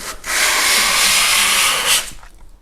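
Hand sanding a wooden model oval racetrack: one continuous, close, bright scratchy rub lasting about two seconds, starting and stopping abruptly, with no talk.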